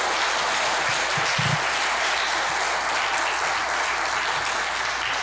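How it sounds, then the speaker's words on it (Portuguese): A church congregation applauds together, a loud, continuous wash of clapping filling the room for several seconds with a few low thumps near the start. "Você pode aplaudir Jesus?"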